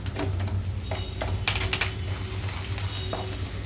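Moong dal, chana dal and ginger pieces fry in oil for an upma tempering over low heat, giving a quiet sizzle broken by sharp clicks and scraping taps.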